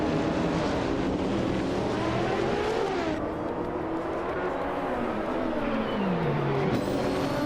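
Engines of racing cars in a video game race roar continuously and loudly, with rising and falling revs as the cars run nose to tail, a steady dense drone throughout.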